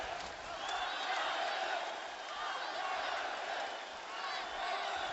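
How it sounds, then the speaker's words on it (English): A large arena crowd at a UFC event in Kazakhstan chants a fighter's name in a steady rhythmic roar, sustained and loud throughout with no clear pauses. "Crowd chanting, Nurseit, Nurseit."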